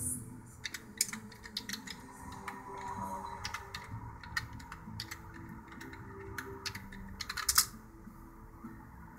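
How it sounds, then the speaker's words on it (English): Keys clatter on a computer keyboard as a web address is typed into a browser address bar, an irregular run of quick, light clicks close by over a quiet background. "see what happens when I type in a URL"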